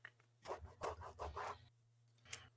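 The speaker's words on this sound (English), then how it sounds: "There's literally a paper and pencil. I heard him marking it up." A pencil scratches across paper in a quick run of five or six short rubbing strokes, then pauses before one more brief scrape, quiet and close with no talk.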